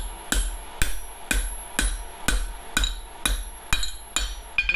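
A hammer forging 4130 steel sucker rod of 5/8 inch gives nine sharp, ringing metallic blows in a steady rhythm about half a second apart, loud and close with no talking.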